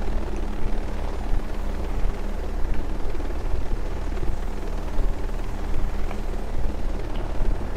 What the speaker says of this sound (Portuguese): Esse helicóptero de bonito, né?